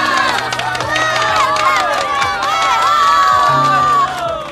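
An office crowd welcomes a new boss in a Chinese TV drama scene with loud, sustained cheering and excited shouts, with a few claps blended into the lively, close chorus of voices.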